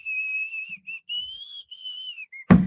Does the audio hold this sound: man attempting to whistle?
yes